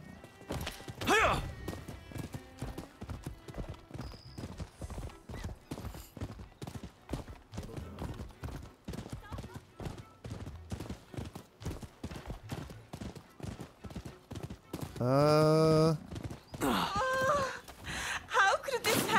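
Horse hooves in Rise of the Ronin clatter in a steady, fast clip-clop rhythm through most of the stretch, with a loud whinny near the end over a game music bed.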